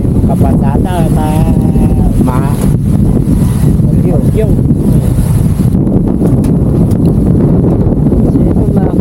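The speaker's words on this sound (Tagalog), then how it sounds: "Siya lakas pa rin ang hangin, no?" Strong typhoon wind at signal number 4 in Pangasinan batters the microphone with a loud, constant roar and rumble throughout, while a person talks faintly beneath it.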